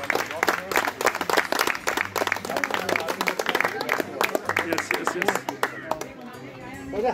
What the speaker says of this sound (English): Claps, claps, claps, claps, please.